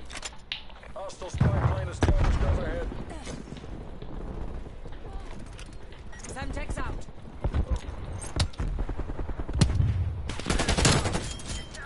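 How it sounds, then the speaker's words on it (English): Rapid gunfire bursts in a Call of Duty Cold War match, including the Krig 6 rifle, crackling in quick clusters over game sounds while a player talks excitedly throughout. "Wait, who's shooting?"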